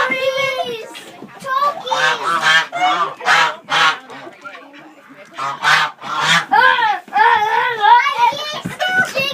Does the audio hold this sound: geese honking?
yes